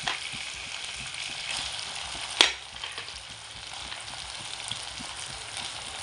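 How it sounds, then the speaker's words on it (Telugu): Chopped onions sizzle steadily in a hot pan for a sprouts (molakala) curry, a soft continuous frying hiss with light stirring and one sharp clink of a utensil partway through. "తర్వాత ఇందులోకి మనం ఉల్లిపాయలు వేసుకుందాం."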